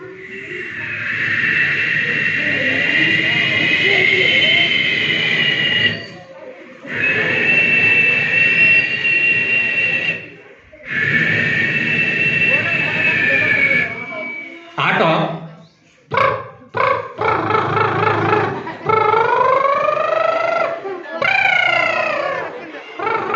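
A person imitates an airplane with sustained whooshing, whining vocal drones, followed by shorter rising and falling engine-like vocal sounds.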